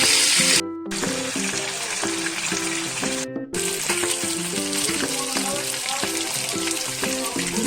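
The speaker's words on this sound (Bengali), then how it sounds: "তেল আমার গরম হয়ে গেছে, এবার একে একে মাথাগুলো দিয়ে আমি ভেজে নেব" Bhetki fish heads fry in hot oil, a steady sizzle running throughout beneath loud background music with a rhythmic melody.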